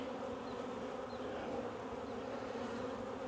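A honey bee swarm buzzes around a mesh basket in a dense, continuous drone that stays steady and close, with no voices over it.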